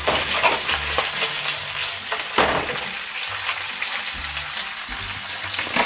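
Bacon frying lightly in a frying pan while olive oil warms for a one-pan peperoncino, giving a steady close sizzle throughout with occasional stirring scrapes and low bumps from the pan.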